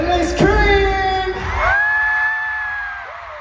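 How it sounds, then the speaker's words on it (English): A concert crowd at a show in Anaheim screams and cheers, with loud, sustained high-pitched shrieks from many fans and a voice calling out over them at the start. "LA Scream!"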